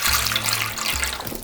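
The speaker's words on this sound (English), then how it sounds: "I'm just gonna pour over some cold water first" Cold water pours from a container over orchid potting medium during repotting, a close, steady splashing trickle with a brief break partway through.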